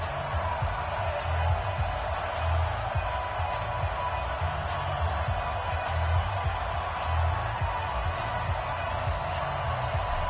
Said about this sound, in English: This crowd is ready as their guys get set to match up between the Carolina Panthers and the Dallas Cowboys